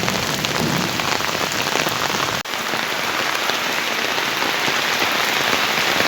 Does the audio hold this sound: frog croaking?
no